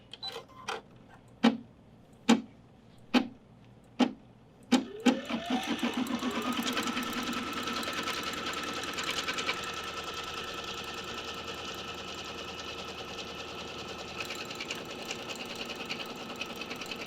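A series of sharp single clicks or clunks comes first, then a sewing machine starts and runs in a steady, fast whirring stitch through fabric for the rest of the clip, close and continuous.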